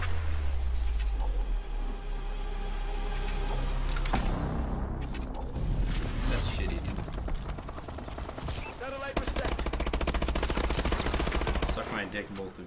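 Rapid automatic gunfire and weapon bursts from Call of Duty: Advanced Warfare online multiplayer gameplay crackle densely in the foreground, with repeated volleys, brief lulls and mechanical clicks throughout.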